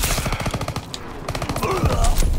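Rapid automatic weapon fire in a World War II first-person shooter game, a loud, close string of sharp rattling bursts with a short pause in the middle before the shooting resumes.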